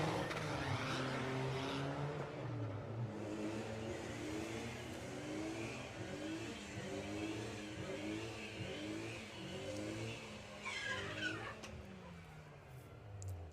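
Drag race cars, a Turpits Audi and a VW Golf, accelerating hard down the strip at a Santa Pod VW drag racing event; a loud, sustained engine roar with rising harmonic sweeps through the gears, continuous for the whole stretch.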